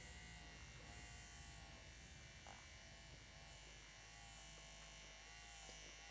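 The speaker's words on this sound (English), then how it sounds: "the noise level this iDOO Cordless Wand Massager makes" An iDOO cordless wand massager running at its highest speed gives a steady, quiet electric buzz with a constant motor hum, close by and unbroken for the whole stretch.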